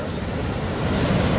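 Sea waves surge and crash against a rocky shoreline where a cement mixer and trucks sit trapped. The roar is loud, close and continuous, with gusty wind noise over the water.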